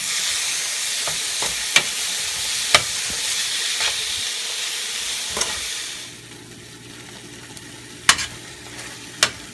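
Tomatoes frying in a pan for home-style chicken gravy, stirred with sharp spoon clacks over a bright sizzle that drops to a quieter hiss partway, with a few louder knocks after.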